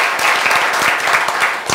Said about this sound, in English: Isa pang malakas na clap offering para kay Lord.